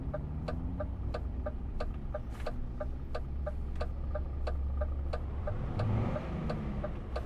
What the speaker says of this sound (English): That blinker seems really loud.